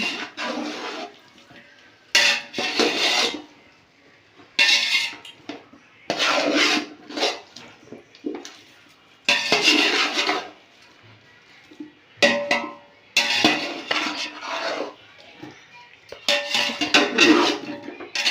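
Scraping, rasping stirring of mushrooms in a pot, coming in repeated bursts of a second or two with quiet gaps between, close and fairly loud.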